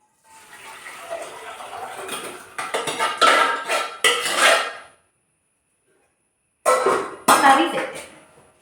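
Cooked curry is scraped and poured from a pot into a serving dish, with close clattering of metal utensils and a wet sloshing texture, a short silent gap, then more scraping and clinks.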